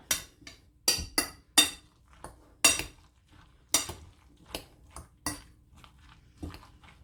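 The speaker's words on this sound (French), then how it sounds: "Donc on va bien mélanger pour avoir un mélange parfait et homogène" Cauliflower being mixed with eggs in a bowl for cauliflower patties, heard as a close series of irregular clinks and taps of a utensil against the bowl, some sharp and some softer, with quiet pauses between and no voices.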